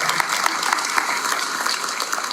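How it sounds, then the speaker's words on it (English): At a candidate forum, a crowd gives the men on stage a steady round of applause, a wash of clapping with a few sharper claps standing out, heard alone with no talking. "let's give these gentlemen one more round of applause"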